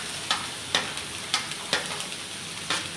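Onion and green chilli fry in a little hot oil with a steady close sizzle, punctuated by spatula taps roughly every half second.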